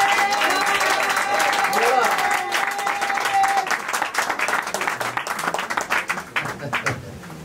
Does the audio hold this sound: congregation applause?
yes